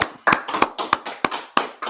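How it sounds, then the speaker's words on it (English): Several sharp hand claps from an audience ring out in quick uneven bursts, about six loud impacts over two seconds with brief gaps between them, no talking over them. "clap it up"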